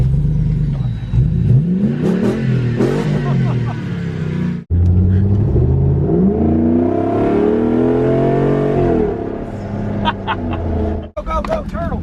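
A Jeep Wrangler's 6.4-litre Hemi engine revs and roars up and down close by, deep and loud, with people talking over it.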